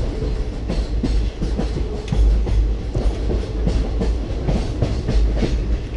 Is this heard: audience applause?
no